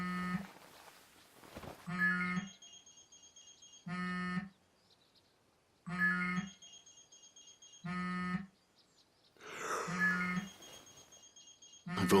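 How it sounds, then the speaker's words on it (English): A repeating electronic alarm from the video game Final Fantasy XV sounds in loud bursts of about a second and a half, roughly every two seconds, with a buzzy tone under a high whine and talk near the end. "This alarm is annoying as all hell."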